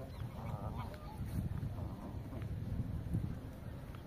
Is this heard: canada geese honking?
yes